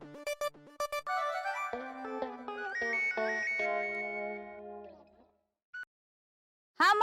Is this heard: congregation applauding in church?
no